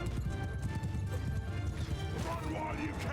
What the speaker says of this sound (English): Still getting used to the pace of this horse.